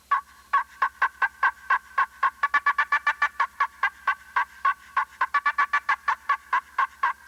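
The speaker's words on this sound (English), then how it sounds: "do the cackle on a double glass because it has a real clear pitch" Rapid, sharp turkey cackles from a double glass friction call ring out in quick, clear-pitched bursts, speeding up and slowing in an uneven rhythm, close and crisp.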